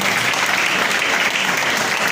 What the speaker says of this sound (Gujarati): જોરદાર તાળીઓના ગણગણાટથી સન્માન કરીશું.